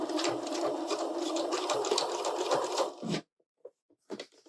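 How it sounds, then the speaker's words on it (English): A sewing machine sews down quilt binding for a striped quilt, humming steadily for about three seconds with a brief backstitch, then stopping, followed by a few faint clicks. "where you'll start stitching both layers down"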